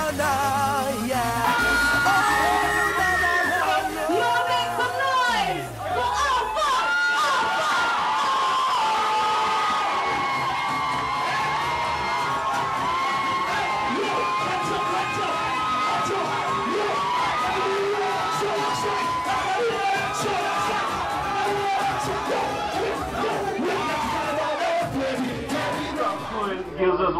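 A dense, roaring crowd at a live stage performance cheers, yells and whoops nonstop, loud and close throughout with no break in the noise.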